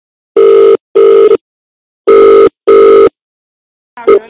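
A telephone rings loudly in two pairs of long electronic rings at an even pace during a prank call. A short, sharp tone follows at the very end.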